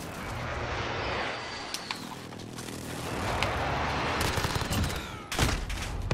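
A precision airstrike in Call of Duty Modern Warfare multiplayer: a dense roar of rapid impacts and gunfire-like bursts rolls on throughout, with a sharper heavy hit near the end.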